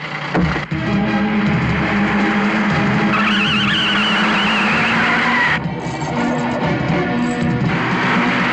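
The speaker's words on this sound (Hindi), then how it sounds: "ड्राइवर गाड़ी चलाओ।" A car revs loudly with tyres skidding as it pulls away in a 1990s Hindi film scene, a sustained, close engine roar with no talk over it.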